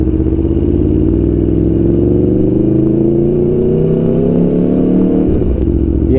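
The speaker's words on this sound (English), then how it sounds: "the sound of this exhaust makes me really want an exhaust" An Aprilia Tuono V4 Factory 1100 motorcycle exhaust burbles and rises in pitch as the V4 engine pulls, loud and close, then drops off with a sharp blip near the end, with no voices over it.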